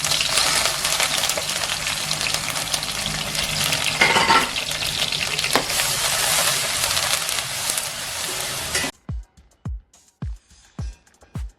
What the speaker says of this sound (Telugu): ఆయిల్ వేసుకుని 8 పచ్చిమిర్చి, ఇంకా కొన్ని కరివేపాకు వేసుకుని తర్వాత ముందుగా మిక్సీ పెట్టుకున్న ఆనియన్ పేస్ట్ని కూడా వేసేసుకుని ఫ్రై చేసుకోవాలి